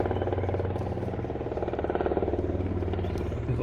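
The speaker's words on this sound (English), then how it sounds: "We've got a helicopter going overhead right now." A helicopter passes overhead, its steady rotor chop and engine drone filling the air at moderate distance with no talking.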